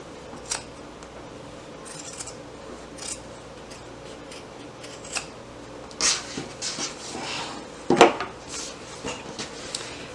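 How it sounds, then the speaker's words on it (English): Scissors trimming the seam allowance on a fabric tote bag, a few soft snipping cuts around six and eight seconds over a quiet room background. "you can go ahead and trim down that seam allowance"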